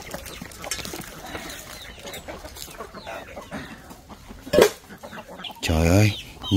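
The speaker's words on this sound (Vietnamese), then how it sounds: "Trời ơi, nhiều con gà con bò" Chickens and other farm poultry cluck softly in a rural Vietnamese yard at feeding time, with a louder squawk or two near the end, while people talk over them throughout.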